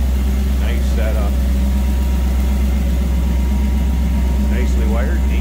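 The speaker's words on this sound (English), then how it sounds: "neat looking engine bay" The V8 engine of a 1967 Chevrolet C10 pickup idles steadily with a deep, even rumble, close by and continuous.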